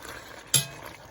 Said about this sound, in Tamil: கிண்டி விடுவோம்.